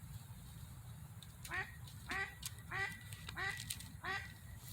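A duck quacks in five evenly spaced calls against a quiet, low background rumble, heard at a moderate distance.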